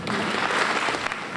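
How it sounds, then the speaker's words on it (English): A room of faculty and staff applauds the Human Resources Office after its fringe benefits briefing at a seminar, a dense, steady wash of clapping that holds for the whole stretch. "Let us give our Human Resources Office a round of applause for a wonderful presentation"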